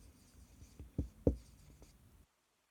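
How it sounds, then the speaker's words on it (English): A pen writes on paper close up, quiet scratchy strokes with a few sharper taps and scrapes in the middle, then stops into silence. "So I'm going to write that over here."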